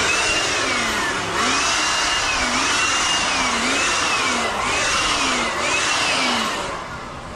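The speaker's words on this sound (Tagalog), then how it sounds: "pinapasadahan na lang natin ang blower para tuluyan pong matanggal yung mga alikabok" A blower clearing dust off a concrete slab before waterproofing roars loudly and steadily, its pitch rising and falling in a repeating wavering pattern, close and uninterrupted.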